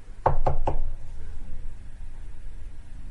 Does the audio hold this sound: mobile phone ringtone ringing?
no